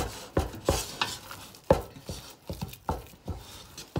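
Spinach sauce with margarine being stirred in a pot, a spoon scraping and knocking in irregular strokes, close and fairly loud, with a soft sizzle underneath.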